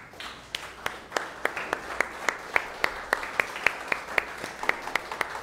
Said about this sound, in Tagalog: bigyan mo ng the best na palakpak si Jesus?